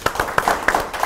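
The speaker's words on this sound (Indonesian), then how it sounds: "Kasih supportnya, tepuk tangan ya" A small group applauds for a guest speaker on an Indonesian talk show. The clapping is sparse, close and uneven, with about a dozen distinct claps in a brief burst.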